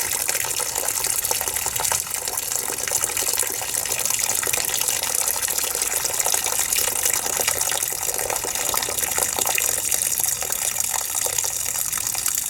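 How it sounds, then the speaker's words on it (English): Water runs steadily in a frozen-weather setting while winterizing, a continuous close hiss with trickling, dripping texture that holds evenly from start to finish with no talk. "Listen to that running water. Just dripping down."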